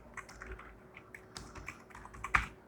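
Typing on a computer keyboard while writing in Microsoft Word 2019, a quiet scatter of key clicks at an uneven pace with one louder keystroke near the end and no voices.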